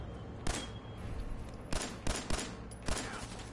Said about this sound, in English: Just shoot off his arm.